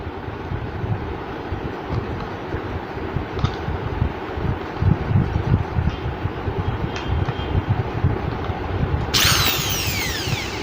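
A repaired electric drill machine running on a 220-volt supply, its motor whirring steadily and loudly close by for the whole stretch, with a higher whine sweeping in near the end.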